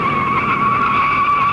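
A race car spins out at the 1960 Indy 500, tires skidding in a loud, sustained squeal that holds a steady pitch throughout, close up with no voices.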